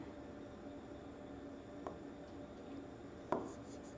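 Pen scratching on paper during a Class 9 math lesson on polynomials, a steady faint rubbing with a couple of sharper tap-like marks near the end, no talking.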